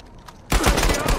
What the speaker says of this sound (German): Wo schießen die denn?